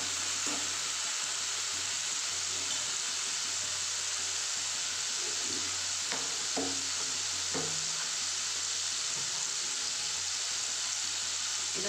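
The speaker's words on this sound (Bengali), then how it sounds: "একটু 1-2 মিনিট নেড়ে নেব।" Lentil dal with squash being stirred in a pan, a steady low sizzle with soft scraping strokes scattered throughout, close and continuous.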